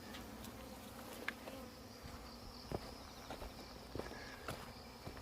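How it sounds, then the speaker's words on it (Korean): Bees buzzing in and around a sugar-baited trap set out for honeybees, a soft steady insect drone with brief louder passes close by and faint outdoor rustles, no talking. "근데 와, 벌 겁나게 빠져주고 있네."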